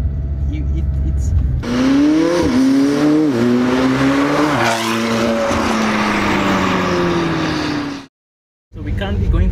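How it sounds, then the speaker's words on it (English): A tuned 900hp McLaren 720S engine roars loudly as it accelerates, the pitch climbing and dropping through gear changes, then cutting out briefly before resuming. "So we're currently going for a drive in 720S."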